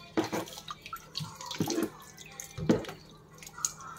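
Tap water splashing while baby feeding bottles are rinsed in a sink, with intermittent bursts of running and spattering water and drips between them, close and moderately loud.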